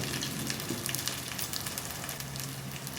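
Spices, turmeric and chili powder sizzle and fry steadily in hot oil in a pan for boti curry, a continuous close crackle with no voices over it.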